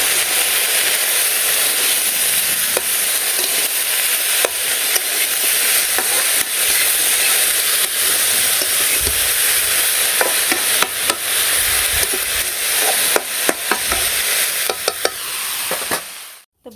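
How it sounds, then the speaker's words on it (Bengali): Oil sizzles steadily in a pan as green chilies, salt, turmeric, Kashmiri chili powder and dried chili powder are fried for fish, with a continuous hiss punctuated by repeated spatula scrapes and clicks. "সব কিছু দিয়ে ভাজা ভাজা করে মাছ দিয়ে নামিয়ে নেব"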